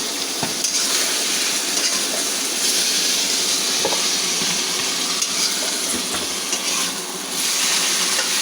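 Chopped ash gourd fries in a pan with oil and egg, giving a steady, loud, close sizzle with occasional stirring scrapes throughout.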